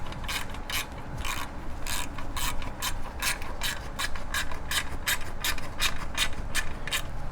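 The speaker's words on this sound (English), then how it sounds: "now that I got the bolts in place, I can go ahead and snug this one" Bolts being tightened with a ratchet on a Kohler EFI long block engine during installation, a steady run of rapid, close metallic clicks repeating throughout with no talk.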